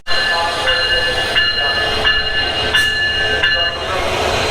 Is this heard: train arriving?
yes